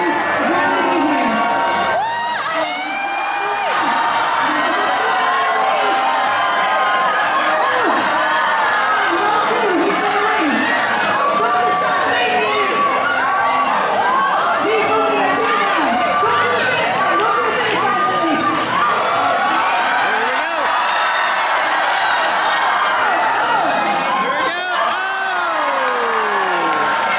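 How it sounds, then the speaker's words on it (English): A loud crowd aboard a Disney cruise ship, the Disney Wonder on an Alaska sailing, cheers, whoops and shouts continuously, with children's voices and chatter mixed into the dense roar throughout. "The cheering has confused her."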